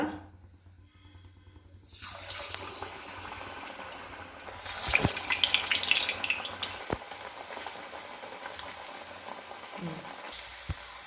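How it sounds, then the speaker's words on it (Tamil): Onion vada balls drop into hot oil and deep-fry with a rising, bubbling sizzle, close and fairly loud, swelling then settling into a steady fizz with a few clinks. "இனி வந்து நம்ம இந்த உருண்டைகளை நம்ம எண்ணெயில போட்டு பொரிச்சு எடுத்துக்கலாம்"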